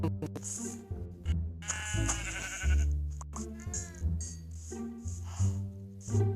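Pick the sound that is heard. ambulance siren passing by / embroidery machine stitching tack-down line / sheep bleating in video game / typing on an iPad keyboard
sheep bleating in video game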